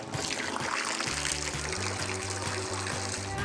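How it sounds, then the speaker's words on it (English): Water trickles and splashes steadily into a newly installed fountain, a continuous close pouring wash with a faint rhythmic low pulse underneath. "We'll fill it with water and make sure we're good."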